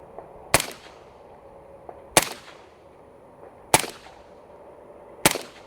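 Four suppressed 5.56 rifle shots through an Exigent Defense Fireteam suppressor on a Sons of Liberty Mark I rifle, sharp loud cracks spaced about a second and a half apart, each with a short decaying tail.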